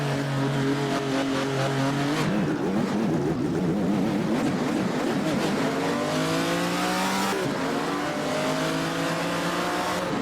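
A vintage 1948 race car in the Assetto Corsa racing game roars off the grid at a race start, its loud, steady engine revving up through rising pitches as other cars accelerate close by.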